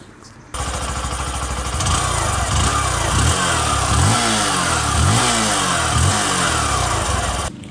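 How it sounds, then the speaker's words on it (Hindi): A Hero Passion Xtec motorcycle engine starts up and runs close by, settling into a steady idle with rhythmic pulsing throb and a few light revs, continuous until it cuts off. "अभी बाइक को हमने स्टार्ट किया।"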